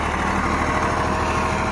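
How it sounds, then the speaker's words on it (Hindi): A small 35 HP Same Greaves 353 tractor pulling a three-bottom mouldboard plough, its engine a steady, low chugging drone with constant broadband rumble heard fairly close and without talk. "छोटा सा ट्रैक्टर है देख लो, 3 का पलाव जोड़ रहा है"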